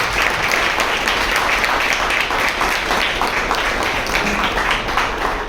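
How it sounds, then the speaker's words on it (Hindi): An audience at a social gathering and training event claps loudly for about five seconds, a dense and continuous burst of applause from many hands. "तालियां।"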